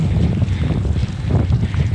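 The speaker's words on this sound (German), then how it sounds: "Also jetzt kommt er von hinten, aber also mittelwindig 3 bis 4 Beaufort und nachher frischt er auf." Wind buffets the microphone of a cyclist riding a 200 km road-and-gravel audax brevet near Kiel, Schleswig-Holstein, in moderate to freshening wind. It makes a loud, continuous low rumble with no let-up and no talking.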